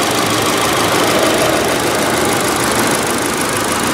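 A small car engine, the Ecotec in a 2017 Chevrolet Sonic RS, idles steadily up close, a smooth continuous hum with a faint rattle, no voices.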